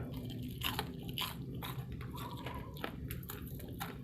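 Crispy deep-fried chicken feet coated in crunchy batter, bitten and chewed close to the mic: repeated sharp crunches and crackles in an uneven chewing rhythm, alone without talk.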